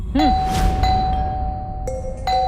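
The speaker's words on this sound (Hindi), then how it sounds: "कौन घंटी बजा रहा है?" A two-tone doorbell chime rings out clearly, then a second ding-dong follows a moment later, with a soft sigh at the start.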